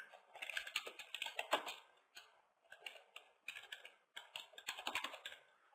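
Someone types an answer on a computer keyboard in quick, uneven bursts of light clicking separated by short pauses, close and quiet, with no voice.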